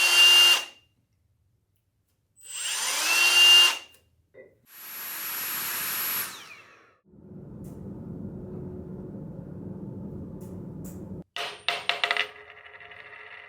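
Test sounds play back in sequence: several sharp, bright bursts like coins dropping and ringing, then a steady whirring drill motor running for several seconds, ending with a short cluster of metallic clinks.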